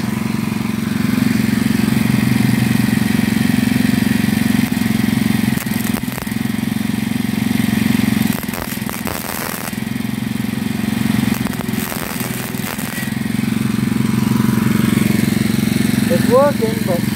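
A small engine fitted with a replacement carburetor, with fuel still leaking into the oil, runs loud and close for the whole stretch, droning steadily with a few rough dips and uneven bursts in its note.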